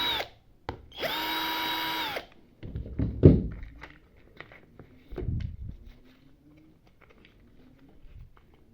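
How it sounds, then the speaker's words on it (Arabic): A power screwdriver whirs in one sustained burst at close range while removing screws from the base of a faulty electric kettle. Clunks and thuds of parts being handled follow in a quiet room. "هنفك ال3 مسامير."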